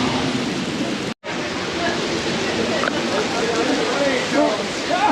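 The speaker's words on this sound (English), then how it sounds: "As you can tell, it is raining." Rain falling outside a Harley-Davidson dealership, a steady close wash of hiss with voices talking over it and a brief dropout partway through.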